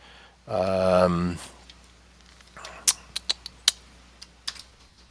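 A short voiced sound opens, then several crisp, separate computer keyboard clicks follow, some in quick succession, close and fairly loud against a quiet room.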